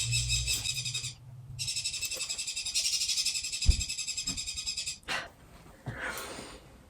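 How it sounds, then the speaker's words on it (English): Pet birds indoors give repeated shrill, buzzy calls in long sustained bursts, fairly close and moderately loud, with brief pauses and a few softer chirps near the end. "you can hear my birds"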